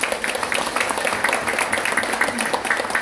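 An audience at a church leaders' rally claps together in steady, dense applause, even and sustained across the whole stretch without speech.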